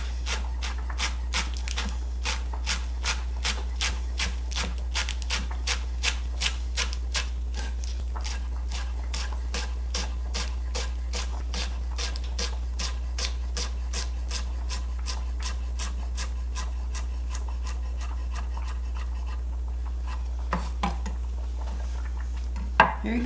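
A knife chops collard greens on a cutting board in steady, rapid rhythmic strokes, a long run of crisp close taps over a constant low hum, with a brief pause and a few final cuts near the end.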